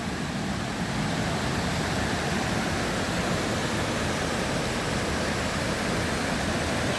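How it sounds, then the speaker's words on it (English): A waterfall rushes steadily beside uneven stone steps on a walk near Callander, a loud, unbroken broadband roar with no talk. "Waterfalls over there"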